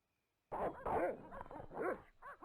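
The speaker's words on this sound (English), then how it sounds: "Okay, there are definitely dogs." Dogs barking and yelping in the 1996 PC adventure game Broken Sword: The Shadow of the Templars, a burst of several close, overlapping barks and whines that starts abruptly after a brief silence.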